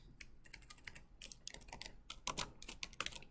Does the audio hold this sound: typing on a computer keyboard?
yes